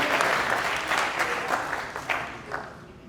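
A church congregation at a convention in Miami claps for the Lord, a soft, moderately distant wash of applause with uneven bursts that gradually fade over a few seconds.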